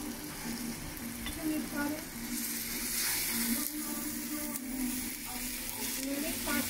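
Jeera, curry leaves and mustard seeds sizzle in a hot pot for a Zulu chicken dish, a dense steady frying hiss with faint crackles, close, while voices talk quietly underneath.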